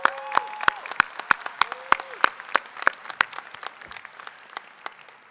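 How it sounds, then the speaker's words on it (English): Applause at a law school convocation, an audience clapping in a sharp, steady patter of individual claps that gradually thins and fades over about five seconds. "I think they deserve a round of applause as well"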